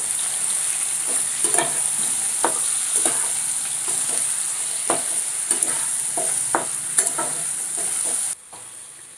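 Marinated chicken sizzles steadily in a hot pan with a constant bright hiss, broken by repeated scraping strokes of a spatula stirring it, until the frying sound abruptly drops away near the end.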